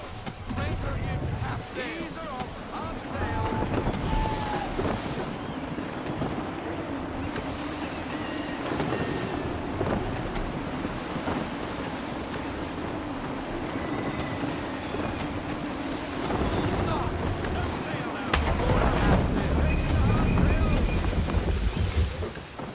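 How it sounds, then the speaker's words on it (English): Gusty wind and ocean surf during sailing in Assassin's Creed 3 Remastered, a continuous broad rush of wind and waves with a creaking ship, swelling louder near the end. "Gusty winds can be difficult to manage."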